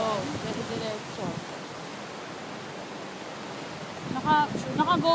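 Surf breaks on the South Batan shoreline in a continuous windy roar, with people speaking over the waves at the start and again near the end.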